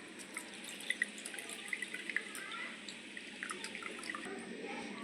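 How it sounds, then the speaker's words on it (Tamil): Water drips and trickles as boiled grapes are strained, with small irregular drops falling close by for a few seconds. "இப்போ நம்ம கிரேப்ஸை வடிகட்டி எடுத்துக்கலாம்."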